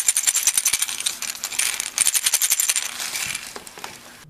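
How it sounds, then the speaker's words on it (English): A traditional Native American rawhide rattle is shaken in quick, steady bursts, giving a dry, crisp rattling that pulses rhythmically and then tapers off; close and alone, with no voices. "most influenced by Native American rawhide rattles."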